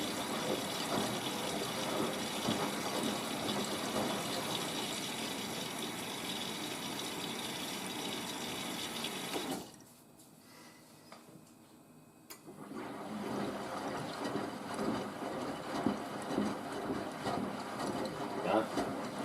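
Washing machine on its final rinse cycle, filling with a steady rushing, sloshing wash of water that cuts out briefly partway through before resuming, heard close and continuous.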